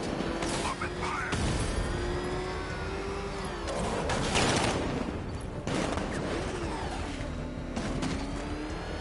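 Sustained gunfire and crashing vehicle action in the video game Batman: Arkham Knight, dense and loud throughout, with rumbling engines and repeated impacts mixed under game sound.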